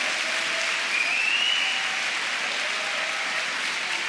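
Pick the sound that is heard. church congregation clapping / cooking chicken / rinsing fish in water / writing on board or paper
church congregation clapping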